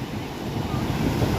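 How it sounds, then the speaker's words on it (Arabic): Rough sea surf crashing on a beach during a seaside holiday, a constant close wash of breaking waves mixed with wind buffeting on the microphone, under a light voice. "بس الموج، شايفين الموج عامل ازاي؟"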